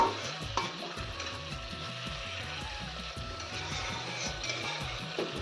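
Fish pieces fry in a pan for a fish curry cooked with dry red chillies, giving a steady close sizzle with rhythmic scraping strokes of a spatula throughout and no talking.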